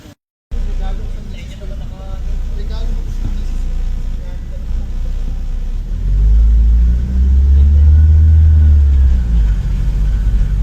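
A red Ford Fiesta with an engine misfire idles with a low, uneven rumble, then swells into a louder, deeper surge partway through as speech runs over the engine.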